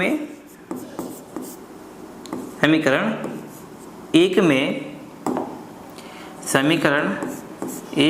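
An equation being written on a board during a class 10 maths lesson: repeated scratchy writing strokes in short bursts, heard under a man's steady, fairly loud talking.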